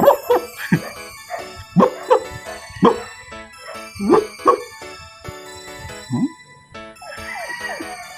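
A dog barks repeatedly at close range, sharp separate woofs in irregular bursts, with a brief lower yelp near the end and a higher whine-like cry closing it; no speech.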